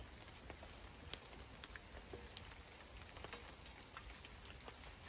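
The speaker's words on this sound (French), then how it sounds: "vous entendez la pluie" Soft, steady rain falls in a forest with light pattering drops and occasional louder drips, quiet and continuous with no voices.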